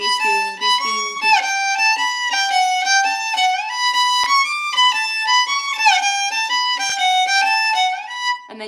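A violin plays a run of fast notes in a rapid, uneven bowed rhythm, the notes stepping up and down through a bright, ringing tone that is close and sustained with no voices.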